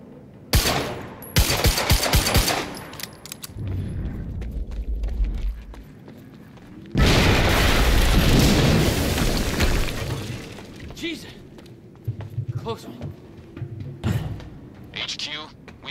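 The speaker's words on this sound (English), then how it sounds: "HQ, we just heard an explosion near the harvesting perimeter." Explosions and bursts of gunfire from the video game Quantum Break, loud and chaotic with sharp cracks early on, a big sustained blast in the middle, and scattered shots afterward, with voices talking in the game.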